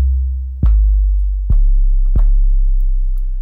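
Bass guitar sustained by a compressor, three plucked low notes in a row, each ringing out longer and fuller before the next, loud and alone with no talk.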